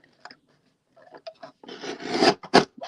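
Paper being trimmed for an embossing craft project gives a few soft scraping cuts, then louder rasping strokes toward the end, heard close up with no talking.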